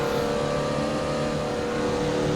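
A loud, steady engine drone of a 1976 McLaren M23 racing car in Assetto Corsa, holding a constant pitch throughout the short clip with no voices.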